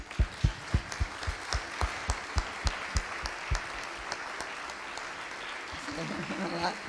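A small audience claps steadily, with a few distinct loud claps standing out, then the applause thins and fades under light chatter, at a university research day event.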